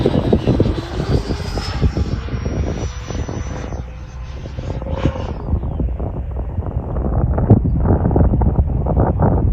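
Freewing Hornet RC model jet in flight, its whining ducted-fan engine pitch sweeping down as it passes, mixed with gusty wind noise on the microphone and rising again near the end.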